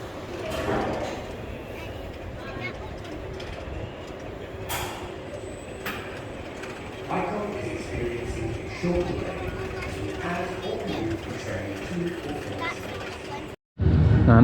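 Mechanical clanks, ratcheting and rolling rumbles as roller coaster trains on Icon at Blackpool Pleasure Beach are swapped over, with occasional sharp knocks and an abrupt loud burst at the end.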